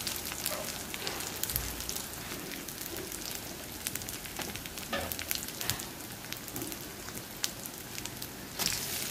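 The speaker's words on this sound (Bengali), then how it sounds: "দিয়ে ভালো করে পেঁয়াজের সাথে ভেজে নিব।" Onions sizzle and fry in hot oil with a ginger, garlic and cumin paste, a steady dense crackle with scattered sharper pops throughout, close and alone without talk.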